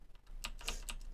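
Clicky keystrokes on an Onn gaming mechanical keyboard: a few crisp, sharp clicks in quick succession, close and fairly quiet, with no voice.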